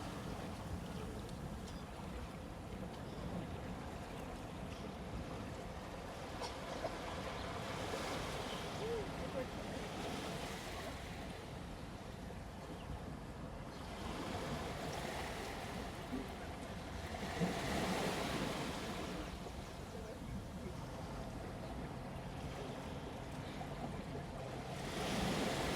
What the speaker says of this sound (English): with the sound of waves.